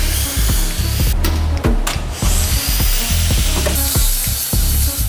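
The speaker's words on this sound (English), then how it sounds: "start cutting apart all the seat bracing" A power tool cuts apart metal seat bracing in a race car, with a loud, close, rough grinding whine broken into short repeated bursts and pauses as the cut progresses.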